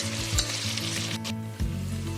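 Brinjal fries in oil over a medium flame with a continuous close sizzle, a low steady hum of bubbling oil underneath and a brief stir midway; nobody speaks.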